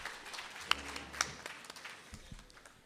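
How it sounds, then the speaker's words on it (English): Audience applause for Doris at a Peguis staff recognition day, moderate clapping with a couple of sharp louder claps early, then tapering off. "one big round of applause again for Doreen"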